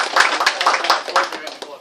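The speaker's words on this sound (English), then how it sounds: "let's give Dr. Barrico a round of applause" A small audience claps for a doctor after a talk, with a short burst of distinct, fairly close hand claps that thin out and fade within two seconds.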